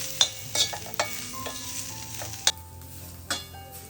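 Sliced onion sizzling in a pan with turmeric, garam masala, coriander powder and homemade red chili powder over a wood-fired stove, a steady frying hiss punctuated by sharp spoon scrapes and clinks, close up, no voices.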